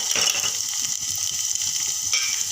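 Garlic, cumin seeds and grated coconut sizzle steadily in a pan as finely chopped tomato goes in, a continuous bright hiss with soft stirring scrapes underneath, close and alone with no talk.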